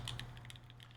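Keys clack softly and quickly on a Geonworks F1-8X keyboard with an aluminum plate, making a faint, muted patter of typing over a low steady hum.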